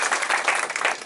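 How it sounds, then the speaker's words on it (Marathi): A lecture audience claps together in dense, even applause, close and fairly loud, for just over a second. "दोन्ही प्रश्न त्यांच्याकरता टाळ्या वाजवा."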